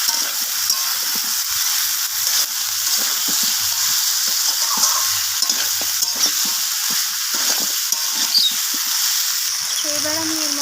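Malabar spinach stalks and mussels stir-fried with catla fish head in a pan, a steady close sizzle with scraping stirs throughout.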